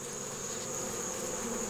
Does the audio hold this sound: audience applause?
no